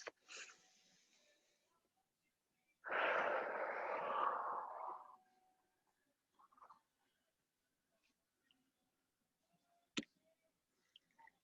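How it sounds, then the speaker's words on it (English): A person doing breathwork takes one long, breathy exhalation of about two seconds, quiet and close. Faint clicks and near-silence surround it. "full inhale, full exhale, as long as you can possibly make the breath"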